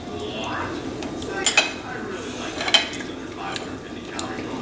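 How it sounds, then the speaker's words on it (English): A fork cuts through tender Swiss steak on a plate, giving a few light clinks and scrapes against the dish in a quiet kitchen setting. "I'm just cutting it with a fork here."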